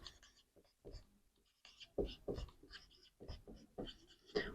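Pen or pencil writing out a row of threes while working an exponent problem, with short scratchy strokes and taps in bursts and pauses, close and fairly quiet, with no talking.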